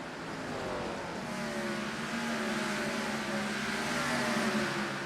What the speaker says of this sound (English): Everybody can hear the cars, they can hear me.